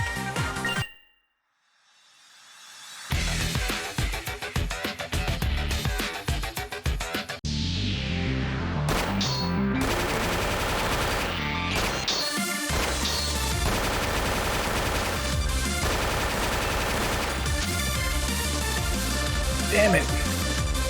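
Rapid, loud bursts of gunfire from firearms in the video game 7th Dragon 2020-II, crackling in dense runs for most of the stretch after a brief quiet opening, with game music and voices mixed in.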